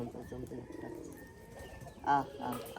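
Domestic pigeons in a winter loft coo in soft, low repeated murmurs, faint and steady, with a brief louder burst near the end.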